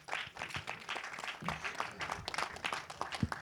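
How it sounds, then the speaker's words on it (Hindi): An audience at a film trailer launch event applauds an actor, with brisk, continuous clapping filling the room for several seconds at moderate loudness. "शरद केलकर के लिए एक बार जोरदार ताली होनी चाहिए"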